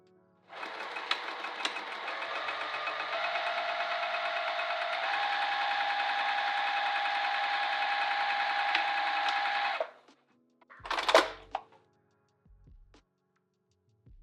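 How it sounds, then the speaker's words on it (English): A sewing machine stitches a handbag seam in one steady, close, whirring run of about nine seconds. It then stops, followed by a short clattering handling noise and quiet. "we're going to sew right here."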